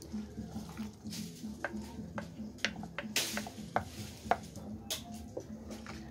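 Canjica stirred with peanut syrup in a pot, a spoon scraping and clinking now and then against the sides over a low, steady background hum, close up and fairly quiet.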